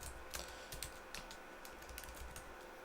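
Keys clatter on a computer keyboard while code is typed into a Java and XML Android project, a steady run of close, quick clicks with irregular gaps and no talking.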